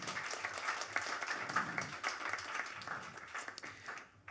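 An audience at a Bass Coast festival panel claps for a musician, a brief burst of applause that thins out and stops abruptly at the end.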